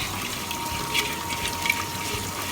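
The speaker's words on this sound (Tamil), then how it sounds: "மீனை உரசி நீட்டாக கழுவணும்." Water runs steadily as anchovy fish are rubbed and washed for a Nagercoil-style fish curry. It makes a continuous close splashing hiss with faint scraping, and no one speaks.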